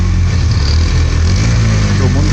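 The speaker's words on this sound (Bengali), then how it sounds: "বাইকের এক্সস্টের আওয়াজটা ঠিক কী আছে আপনারা একটু ভালো করে শুনুন।" A 2024 Hero Xtreme 160R motorcycle's exhaust rumbling close by, a loud, steady low engine drone with no break across the short stretch.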